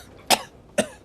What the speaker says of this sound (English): coughs and sputters